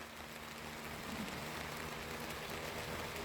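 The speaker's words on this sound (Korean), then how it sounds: "지금 비가 오고 있어요." Steady rain falls on a garlic farm, heard from under shelter as an even, hissing wash with a low background hum throughout and no voices.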